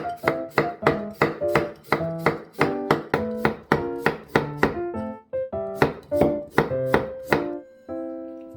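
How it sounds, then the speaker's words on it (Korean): A knife slices a cucumber thinly on a cutting board, each chop a sharp knock in a quick, steady rhythm of about two per second with a brief pause midway, close and clear. "입안 가득 수분감을 전해줄 오이를 얇게 썰어볼게요"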